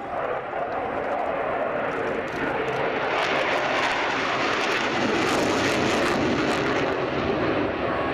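Military jet pair at the RIAT 2016 air show flying a display pass, a loud sustained engine roar that swells and holds steady as the aircraft pass overhead, with no talk.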